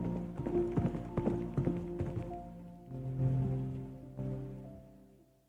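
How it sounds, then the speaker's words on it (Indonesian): A noble's horse-drawn carriage rolls slowly out of a monastery gate in a school musical drama, with rhythmic hoof clip-clops over sustained musical tones that fade gradually toward the end. "Malam itu, tanpa sepengetahuan Eleana, kereta kuda bangsawan melaju pelan keluar dari gerbang biara."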